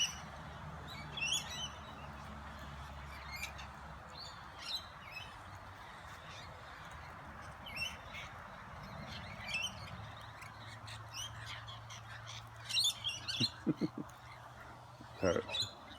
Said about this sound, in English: The lorikeets are telling the ducks where to go.